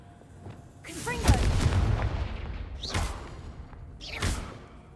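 A Confringo fire spell from the video game Hogwarts Legacy bursts in a loud, booming explosion with a rushing whoosh, followed by two shorter blasts a second or so apart.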